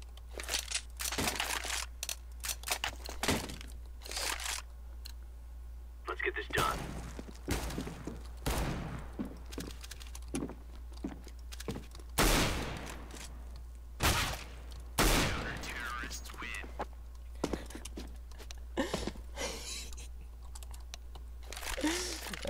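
Gunfire in the video game CS:GO: scattered sharp shots, some in quick bursts, ring out over a constant low hum, with voices talking between and over them.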